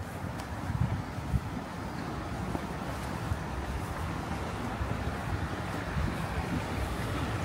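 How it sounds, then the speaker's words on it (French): A river flowing through the quiet grounds of a temple in the Japanese countryside near Fukuoka, a steady soft rushing wash with no voices. "La seule chose que j'entends, c'est la rivière qui coule."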